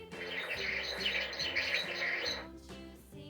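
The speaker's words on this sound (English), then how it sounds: "B-I-R-D, bird." Electronic bird chirps from a Vtech Little Smart School Bus talking toy, a quick run of bright, close tweets over a synthetic tune, stopping briefly and then resuming.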